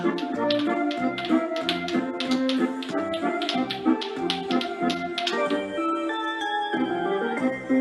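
Quick rhythmic tapping of spoons played by young children in a small orchestra, steady bright clicks over a melodic music backing, close and continuous, fading toward the end as the tune carries on.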